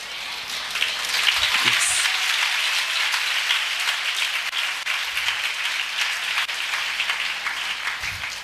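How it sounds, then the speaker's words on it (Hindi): A large audience at a Hindi Christian sermon snaps fingers together on a count, a dense crackling patter like rain that runs steadily throughout, with faint voices underneath. "चुटकी बजाइए, 1 2 3, कहिए"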